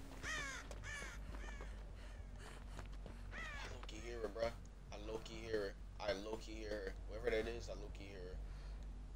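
Crows caw repeatedly in Dead by Daylight, harsh calls coming in a loose string of bursts at moderate loudness with some footsteps and background noise underneath.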